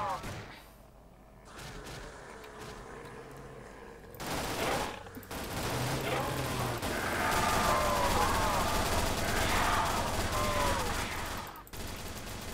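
Gunfire from a weapon in the Roblox zombie-survival game Project Lazarus, a steady run of loud shots with brief pauses, mixed with game effects.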